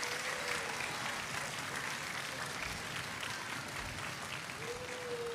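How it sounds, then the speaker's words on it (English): Applause from an audience at a high school orchestra festival concert, honoring the students' parents; steady, dense clapping fills the hall throughout, with a faint tone drifting in the background. "can we give your parents a round of applause?"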